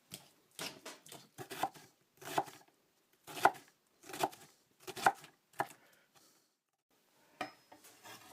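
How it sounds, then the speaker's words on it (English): Grape tomatoes sliced one after another with a knife on a cutting board, about a dozen crisp, close cuts in an uneven rhythm, then a pause and one final cut. "I'm slicing up 10 of these little guys. They're grape tomatoes, and I'm trying to avoid slicing up my fingers."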